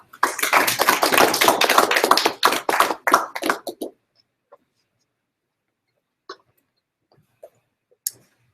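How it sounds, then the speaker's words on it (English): Audience applause welcomes a speaker at a ScyllaDB database tech talk: about four seconds of full, close clapping that stops abruptly, followed by near silence with a few isolated taps. "please give a round of applause for him"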